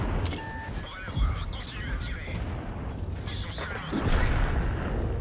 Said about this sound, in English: It's time for me to shoot on a conqueror.